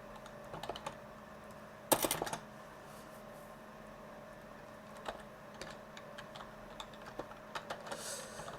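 Typing on a computer keyboard during a livestream, with irregular clusters of soft clicks and one brief louder burst of keystrokes near the start, quiet and close over faint room hum, with no talking.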